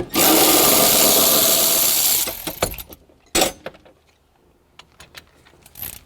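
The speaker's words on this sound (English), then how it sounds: "So I'm gonna undo this bolt here" A power tool undoes a 13 mm bolt on a BMW 640i. It makes a loud, close, continuous whir for about two seconds, followed by scattered metallic clinks and taps of tool handling.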